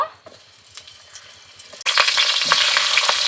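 Pointed gourd (potol) dropped into hot oil, after fish was fried in the same pan, starts with a faint crackle and then bursts into a loud, sustained close sizzle with sharp pops.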